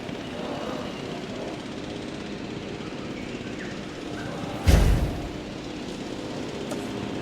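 A helicopter in the dinosaur park game Jurassic World Evolution 2 drones as a steady, low rotor-and-engine hum, with one brief louder burst partway through, and no talking.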